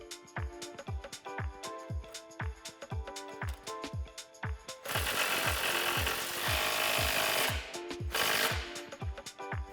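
Socket wrench tightening the supplied bolts and 18mm/19mm lock nuts of a Mammoth 2-inch suspension lift on a Jeep Wrangler JL, a fast run of sharp close clicks with a burst of denser grinding noise midway.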